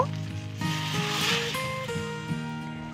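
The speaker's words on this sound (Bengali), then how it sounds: "এবার এখানে সামান্য নর্মাল জল দিয়ে দেব।" Spiced local potatoes being fried in a pan sizzle and hiss after a little plain water is poured in, a steady close bubbling crackle over low background tones, no talk.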